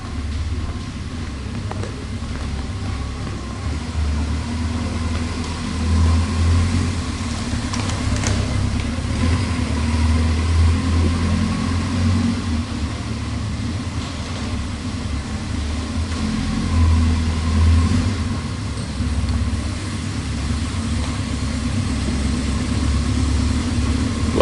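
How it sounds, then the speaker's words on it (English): A 1978 Kawasaki KZ650-B2 motorcycle on stock pipes idles low and steady for about twenty-four seconds, a close, even rumble that rises and falls only slightly. "Idle's nice and low and engine's quiet."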